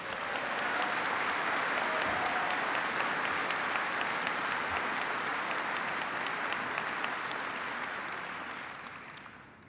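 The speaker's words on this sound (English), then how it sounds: "so give them a big round of applause" A large audience of troops at Fort Bragg applauds in steady, dense clapping that holds evenly for about nine seconds, then tapers off near the end. A few scattered shouts rise over the clapping.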